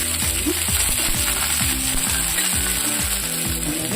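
Vegetables including carrot and sweet corn hiss and sizzle in hot oil in a clay pot, a steady loud frying crackle with a repetitive clicking mechanical rhythm underneath.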